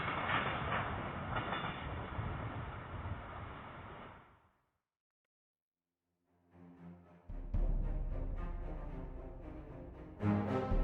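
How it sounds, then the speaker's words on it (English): An eastbound TP&W grain train passes, a steady broad rumble that cuts out to near silence, then returns as louder clattering rail noise with sharper bursts near the end. "Grain train, heading eastbound."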